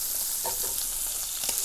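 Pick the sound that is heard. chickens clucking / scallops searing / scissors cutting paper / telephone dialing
scallops searing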